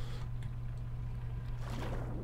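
A boat engine in Stormworks drones steadily and loudly at close range, a constant low hum with watery wash swelling near the end, and no voices over it.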